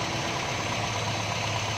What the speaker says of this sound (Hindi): ये अब हमारी गाड़ी स्टार्ट हो गई है।